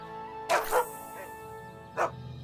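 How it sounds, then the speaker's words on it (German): A dog in a South Park video game barks a quick double bark and then one more bark a moment later, close and clear over quiet background music. "ein Hund!"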